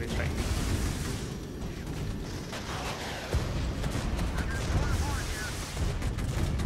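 Artillery strike in the tank warfare video game Regiments, where US and Russian armour clash: a continuous, heavy rumble of blasts and firing that stays loud and thick throughout, with a voice talking over it.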